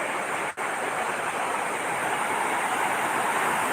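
Surf at Sumedang beach in Pesisir Selatan, a steady broadband wash of breaking waves, constant and fairly loud with no distinct individual crashes, no voices.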